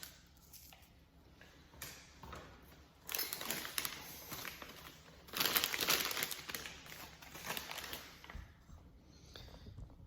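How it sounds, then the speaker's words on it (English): Scissors snip through a dry ingredient being prepared for mapo tofu in a home kitchen, giving a run of crisp crinkling cuts that grow louder in two bursts and then taper off. No one talks. "Since it's dry, I guess you can cut it up, but it's just easier to with the scissors."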